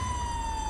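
Emergency siren from a fire engine or ambulance in the video game GTA 5, a single sustained tone sliding slowly downward over a low engine rumble, brief and steady.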